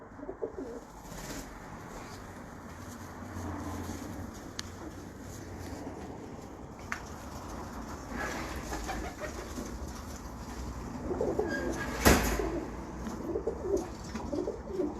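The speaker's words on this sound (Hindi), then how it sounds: "ये सारे कबूतर भी मेरे पास" Several pigeons kept by a keeper coo softly and repeatedly at close range over a quiet outdoor background, with occasional faint clicks and a sharper sound near the end.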